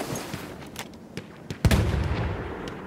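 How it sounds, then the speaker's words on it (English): Anti-tank gun fire in a war video game: scattered distant shots and crackles, then one heavier nearby blast followed by a rumbling, sustained roar of battle noise. "Anti-tank gun! Watch it!"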